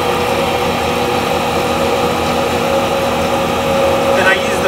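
A wood lathe spins steadily on a woodturning piece while a coating is applied, giving a continuous motor hum with a constant tone that stays even and fairly loud throughout.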